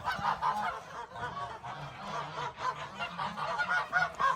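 Several geese on a goose farm honk repeatedly from close by, a busy overlapping chorus of nasal calls.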